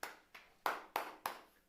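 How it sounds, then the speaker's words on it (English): Five hand claps land one after another at an even, slow pace, faint and close, with nothing else audible around them. "Give my man Doc a round of applause, ladies and gentlemen."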